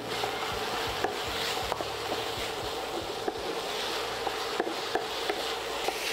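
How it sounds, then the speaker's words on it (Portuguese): Chili and onion being stirred in a hot pan, a steady close sizzle with soft scraping and intermittent light spatula knocks throughout. "Vou dar uma mexidinha aqui."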